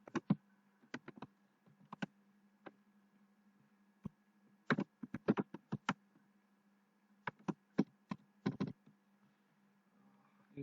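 Computer keyboard typing while a login user ID and password are entered, scattered bursts of crisp key clicks in irregular clusters with pauses between, close and quiet over a faint steady hum, no talking.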